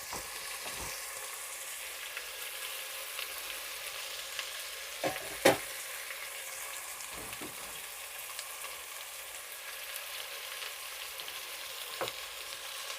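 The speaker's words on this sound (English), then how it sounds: "Then I want my tomatoes to get cooked together with the spices. So I'm going to add in my spices." Spices and tomatoes fry in a pot for beef pilau, giving a steady close sizzle with a few louder spits and stirring knocks, and no talking.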